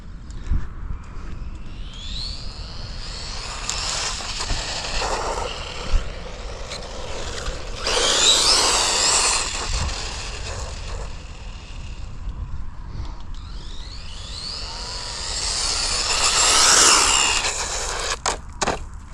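A Tamiya MF01X radio-controlled car runs flat out at top speed on a speed run, its high-pitched electric motor whine rising and falling as it passes near and away outdoors.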